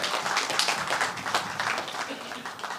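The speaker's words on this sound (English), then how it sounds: "Big round of applause." Listeners applaud after a talk by an author on survival and Sanatana Dharma, with a crowd clapping in loose, uneven waves, moderately close and fairly even in level, over a murmur of voices.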